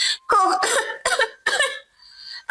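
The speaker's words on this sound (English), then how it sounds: "hold her head, cough" A woman fakes a series of coughs and throat-clearing sounds, several short harsh bursts close to the microphone with brief pauses between them.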